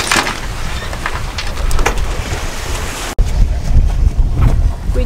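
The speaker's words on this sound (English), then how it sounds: "It is a little bit windy right now" Wind buffets the microphone on a sailing couple's boat at sea near a small island anchorage, a loud steady roar with waves washing against the hull and a brief dropout partway through.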